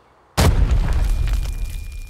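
Grenade blast in the mobile shooter game Arena Breakout: after a moment of near silence comes a single loud, sudden boom with a sharp attack, then a rumbling tail that fades slowly over about two seconds, with no voices.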